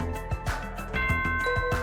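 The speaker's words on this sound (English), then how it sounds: "Was that a school bell just now?" School bell chime in the Danganronpa 2 video game, a ding-dong tone ringing out under a soft musical backdrop with recurring low thumping notes.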